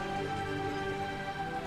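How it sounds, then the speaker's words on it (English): Rain falling steadily in the VR strategy tower-defense game Tethered, a soft continuous patter under sustained musical tones, with no talk. "I'm going to send the rain to the wood."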